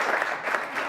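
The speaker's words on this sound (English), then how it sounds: "I want to give a big round of applause to all our speakers" An audience applauds the evening's speakers in a brief, fairly faint burst of continuous clapping that lasts under a second.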